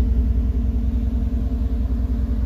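Low, steady rumble of a car with side exhaust pipes at a night car meet, loud and close, with a deep throbbing pulse running continuously and no talking over it.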